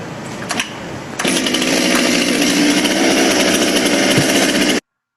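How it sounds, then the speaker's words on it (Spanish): A chainsaw pulls to life after a brief stutter, then runs at a loud, steady high-revving whine close by, holding for several seconds before cutting off abruptly. "cuando se arranca la motosierra, se mueve muy, muy mínimo"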